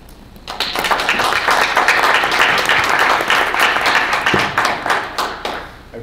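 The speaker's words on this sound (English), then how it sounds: "we'll let that last round of applause go for everybody" A crowd applauds steadily, a dense wash of clapping that swells quickly and holds for several seconds before tapering off.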